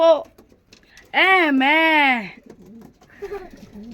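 Loud, close, drawn-out cooing calls from pigeons, a couple of rising and falling coos, followed by softer voices talking.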